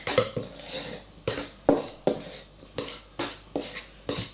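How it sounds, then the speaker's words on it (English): Butter knife or kitchen knife scraping and clinking against a bowl while cutting liquid into a pastry mixture for a strawberry daiquiri tart with lime zest, in a steady series of about ten close, sharp strokes with no talk. "you take a butter knife or a normal kitchen knife and you cut that liquid into the pastry mixture"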